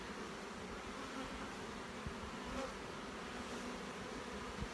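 Honey bees swarm over a brood frame in a hive, giving a dense steady buzzing hum throughout, soft to moderate and close, with a couple of faint knocks.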